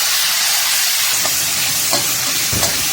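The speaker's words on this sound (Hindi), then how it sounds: "जी तो इसे मैंने अच्छे से फ्राई कर लेना है" Tomato paste frying in a pan for chicken macaroni gives a steady, close sizzling hiss, with a few soft stirring clicks near the end and no talking.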